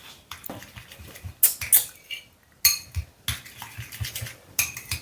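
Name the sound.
mixing a sauce with mustard and smoked paprika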